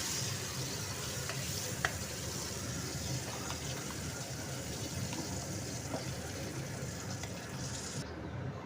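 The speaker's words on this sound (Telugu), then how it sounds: "పచ్చి వాసన పోయేంత వరకు కూడా ఇది ఇట్లా ఫ్రై చేసుకోవాలన్నమాట" Jackfruit pieces fry in a pan, giving a soft continuous sizzle with occasional faint taps from stirring, fairly quiet and steady throughout.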